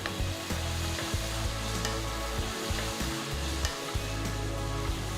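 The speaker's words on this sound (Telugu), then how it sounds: "ఉల్లిపాయలన్నీ బ్రౌన్ రంగులోకి మారేంత వరకు వేయించాలి" Onions and green chillies frying in a pan until browned, a steady sizzle running throughout with low rumbling underneath, close and fairly loud with no one talking.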